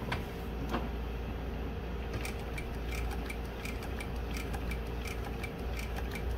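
A sewing machine driven by a 3/4 HP brushless servo motor stitches two layers of vinyl very slowly, giving a quiet, evenly spaced ticking of the needle over a low steady hum.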